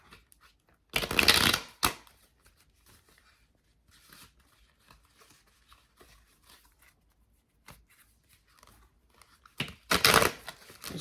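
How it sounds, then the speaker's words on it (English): A deck of cards being shuffled in two crisp riffling bursts, near and loud, separated by a stretch of quiet with faint handling sounds. "Just shuffling the deck."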